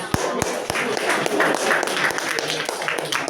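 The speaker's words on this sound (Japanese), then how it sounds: "皆様、ぜひ拍手をお願いします。" Audience applause at a tech and investment presentation, steady moderate clapping from a crowd with a few sharper claps standing out near the front.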